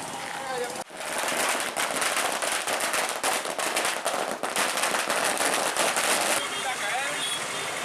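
Firecrackers crackle in a long dense string of rapid pops at a celebration by farmers in the delta region around Mannargudi, loud and continuous under a background of voices.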